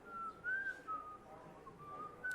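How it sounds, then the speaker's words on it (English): A boy whistles a thin, wavering tune with short gliding notes and brief pauses, soft and close in a quiet room. "He just learned how to whistle over Christmas."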